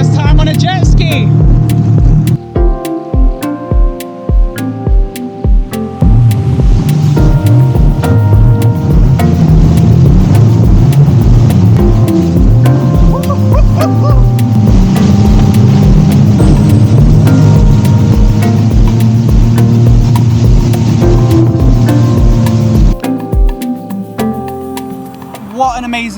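A jet ski skims over the sea off a Barbados beach at St. Peter's Bay, its loud engine droning steadily close by with wavering, rising and falling pitch for the whole ride.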